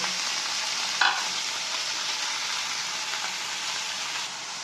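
Chopped winter vegetables frying in a pan for a pasta dish, a steady dense sizzle held close and even throughout, with one brief clink of a utensil near the start and no talking.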